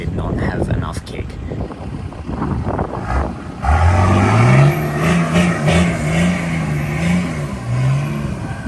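A car engine revs hard while stuck in soft, boggy sand on Fraser Island, rising and falling in pitch for several seconds, close and loud, with wind buffeting and voices talking underneath.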